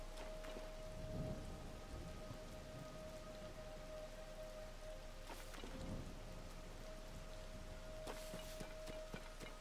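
Steady rainfall with distant thunder rumbles in Zelda: Tears of the Kingdom, a constant wash of rain with a few low rolling booms, alone without voices.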